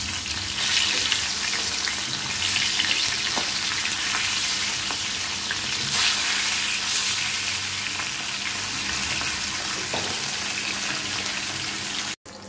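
Pieces of chital fish frying in hot spattering oil in a pan: a steady, loud, close sizzle that runs without a break, with faint clinks and stirring, then cuts off at the end.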